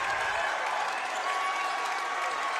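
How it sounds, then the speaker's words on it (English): A high school boys' varsity basketball crowd cheers and claps after a layup in a game between Merrimack and Goffstown, a steady, distant wash of applause and crowd noise in the gym. "and this crowd goes wild"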